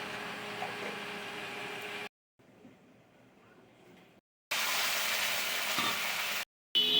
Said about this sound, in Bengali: শিঙি মাছ দিয়ে মাছটা আগে ভেজে নিচ্ছি।